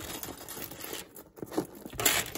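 A short scratchy zip drags open on a Coach Sydney satchel, with crinkly rustling of the bag around it, close and fairly quiet.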